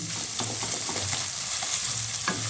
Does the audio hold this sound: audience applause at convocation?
no